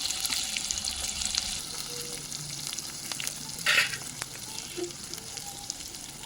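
Onion frying in oil for a leafy greens dish crackles and sizzles steadily up close, with faint utensil scrapes and one brief louder hiss partway through.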